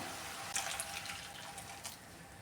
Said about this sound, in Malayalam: 1/2 കപ്പ് വെള്ളം കൂടെ ഞാൻ ഒഴിച്ചു കൊടുക്കുകയാണ്.